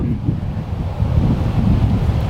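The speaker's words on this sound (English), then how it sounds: "It's windy." Steady gusty wind blows outdoors on a warm November afternoon during a bow hunt, a loud broadband rush buffeting the microphone without pause and without voices.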